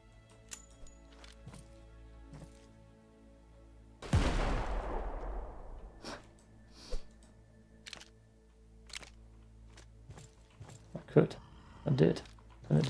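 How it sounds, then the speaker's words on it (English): A thrown grenade detonates in the open-world survival game Project Mist: one sudden loud blast with a long decaying rumble. Scattered sharp clicks and thuds come before and after it. "Let's see if I can just throw a grenade."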